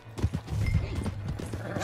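Horse hooves clip-clop in Red Dead Redemption 2 during a horse theft, a quick run of close, uneven beats with a low rumble, while a voice speaks over them.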